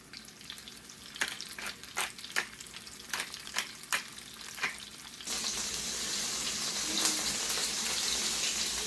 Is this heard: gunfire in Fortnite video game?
no